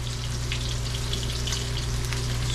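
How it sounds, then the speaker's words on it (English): Cassava bammy flatbreads frying in hot oil alongside fish, giving a steady, close, continuous sizzle with scattered crackles and pops over a low hum, with no talking. "this is my bammy frying"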